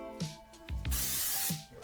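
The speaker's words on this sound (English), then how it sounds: "I'm going to spray that real good" No-stick cooking spray hisses into an 8-inch ceramic baking dish in a home kitchen, a few short bursts followed by one longer spray, close and clear.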